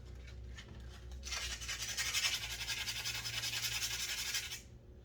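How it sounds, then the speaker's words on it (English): Sandpaper rubs against a hard rock sample, a close, dry scratching that swells after a quiet start and continues steadily for about three seconds before stopping. "Okay, so now let's try some sandpaper."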